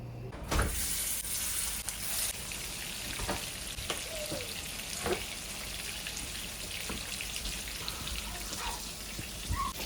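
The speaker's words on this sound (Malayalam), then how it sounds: "ചിക്കൻ ഫ്രൈ റെഡി ആയിക്കൊണ്ടിരിക്കുകയാണ്." Chicken fry sizzles steadily in a pan in a home kitchen, a constant crackling hiss broken by occasional sharper pops and clicks of stirring, with no talking.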